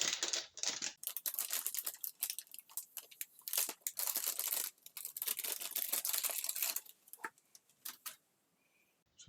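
Plastic packaging bag crinkling and crunching close by as it is opened to unpack a robot gripper for a Ned2 robot arm, in dense bursts of rustling that stop toward the end.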